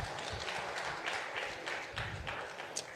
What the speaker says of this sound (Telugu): ఆ మహానుభావుడికి అందరూ ఒకసారి క్లాప్స్ కొట్టాలి.